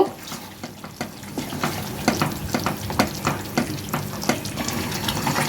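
Fresh cream and cashew paste are stirred into chicken makhani in a pan, giving a soft wet scraping and gentle sizzle with irregular spoon strokes, moderately close and steady.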